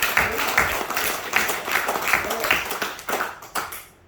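A church congregation at a Sunday worship service claps together in a warm burst of applause that swells, holds with uneven rhythmic pulses, then tapers off and fades near the end.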